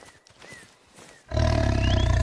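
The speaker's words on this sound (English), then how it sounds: "I hear a tiger growling at me" A Bengal tiger in theHunter: Call of the Wild breaks into a loud, close, sustained growling roar after a stretch of quiet forest ambience.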